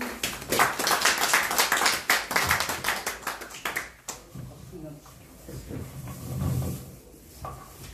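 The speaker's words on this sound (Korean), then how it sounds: "나오실 때 큰 박수로 맞이해 주시기 바랍니다" Audience clapping to welcome a guest speaker walking onto a stage, dense loud applause for about four seconds that thins into scattered claps and room murmur.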